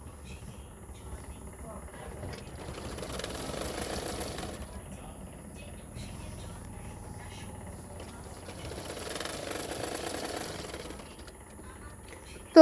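A sewing machine stitches folded-back fabric on a padded blouse, whirring in two longer runs separated by pauses, fairly soft and close with a steady hum.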